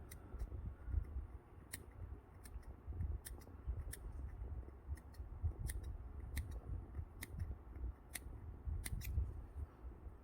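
Fabric scissors snip small notches into the seam allowance of a doll's hanbok beoseon sock, giving a series of crisp, quiet clicks at an uneven pace over a soft, low background hum.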